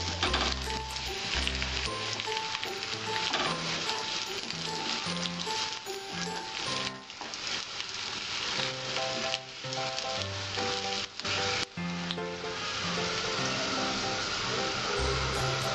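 Garlic sizzling in hot oil in a pan, a steady bright crackle and hiss running throughout with occasional stirring clatter, close and continuous.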